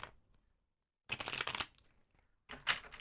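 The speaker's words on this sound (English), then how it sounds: "they want me to shuffle one more time" Two bursts of crisp riffling as a deck of tarot cards is shuffled, with a quiet pause between them, close and fairly loud.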